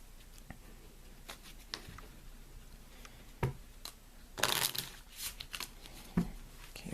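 Soft shuffling of Lenormand cards with scattered taps and clicks, then a louder riffle burst midway, close and quiet overall with no talking.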